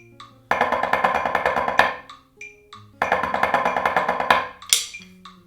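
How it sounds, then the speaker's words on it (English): Snare drum playing continuous eighth-note triplet flams in two loud, sharp phrases, each lasting over a second, separated by brief gaps and ending with a crash accent, close and solo with no talking. "After that, you go into triplet flams,"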